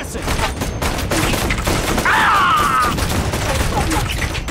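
Dense bursts of rifle and machine-gun fire crackle continuously in an Operation Flashpoint: Red River campaign battle, loud and close, with a brief higher-pitched whine in the middle.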